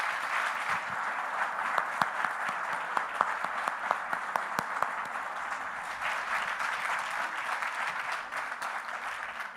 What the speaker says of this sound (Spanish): Les pido un aplauso cerrado.